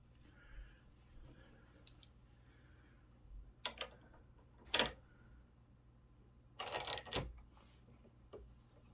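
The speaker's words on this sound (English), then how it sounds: "I do need to readjust my slide here" Slide of a Mossberg MC2C 9mm pistol being readjusted: a few quiet, scattered metallic clicks and one short scraping rasp, close by, with no talking.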